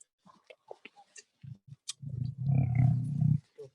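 Male lion on a wildlife safari, first a few short low grunts, then a sustained deep rumbling roar-grumble up close, ending with a brief quieter grunt.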